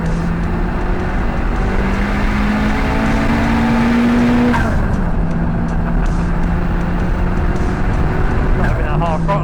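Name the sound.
turbocharged 430bhp Renault Clio engine on circuit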